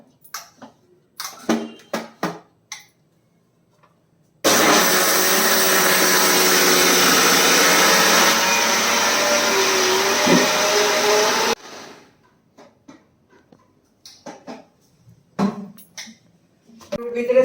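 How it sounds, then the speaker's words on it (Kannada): A mixer grinder blends soaked rice, poha and buttermilk into dosa batter with a loud, steady whirring roar lasting about seven seconds, preceded and followed by someone talking and faint clinks. "ಈಗ ಮಿಕ್ಸಿಗೆ ಹಾಕಿ ತಿರುಗ್ತಾ ಇದ್ದೇನೆ ನೋಡಿ"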